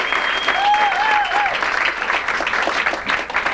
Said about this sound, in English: Give her a big fat round of applause.